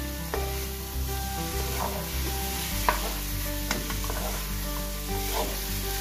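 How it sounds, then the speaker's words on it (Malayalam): Chicken perattu with curry leaves being stirred in a sizzling pan on a gas stove: a steady, close fry hiss runs throughout, with a few spatula scrapes and clicks against the pan and no talking. "ഇനി ഇതിലേക്ക് ലേശം കറിവേപ്പിലയും കൂടെ ഒന്ന് ചേർത്ത് കൊടുക്കാം ഒന്നുകൂടെ ഒന്ന് മിക്സ് ചെയ്തതിന് ശേഷം ഗ്യാസ് ഓഫ് ചെയ്യാം"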